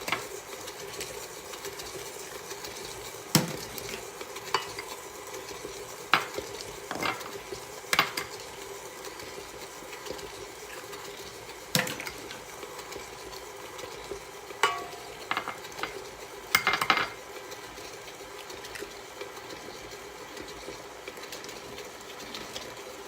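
An electric mixer beats carrot cake batter with a steady, droning motor whir, broken by scattered sharp clinks and knocks from the bowl. No one speaks.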